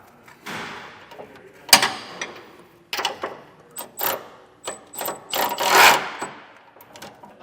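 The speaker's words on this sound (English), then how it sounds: "Take a 15/16 and go ahead and tighten it down." A wrench ratchets a nut tight on a Firestone Ride-Rite rear air helper spring on a 2022 Ford F-350 Super Duty, heard as a close series of short clicking and whirring bursts with brief pauses between them.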